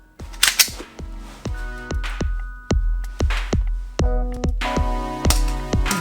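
An airsoft Glock 19X gas pistol fires BBs in a rapid run of sharp, close snapping shots, about a dozen in irregular quick succession with brief pauses between bursts.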